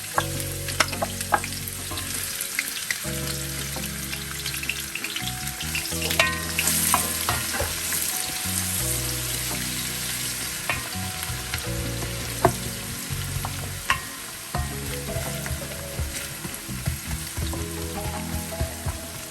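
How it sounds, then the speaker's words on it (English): Chopped onions sizzle and crackle steadily in hot olive oil, close and continuous, with occasional stirring clatter. "I'm going to add my chopped onions and start frying"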